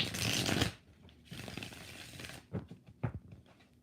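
Tarot cards being shuffled close by give a soft papery riffle, then a few quieter shuffling rustles and two sharp taps of the deck.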